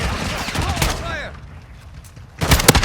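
Rapid full-auto shotgun bursts fire in a video game, with loud dense blasts at the start, a brief quieter gap with lingering tail, then another heavy volley at the end.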